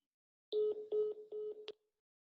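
Telephone keypad dialing to call back a dropped call: four short touch-tone beeps in steady succession, each with a brief clipped tail, heard alone and fairly quiet over silence.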